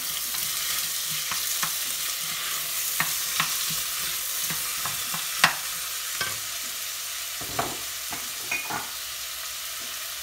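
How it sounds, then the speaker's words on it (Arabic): Chopped onion sizzling in a large spoonful of heated oil while cooking chicken seffa, a steady close crackling hiss broken by sharp pops and the occasional scrape of stirring, with no voices. "نحط معها شويه الزيت شي معلقه كبيره ونضيف عليها البصله ونخليها تسخن شويه"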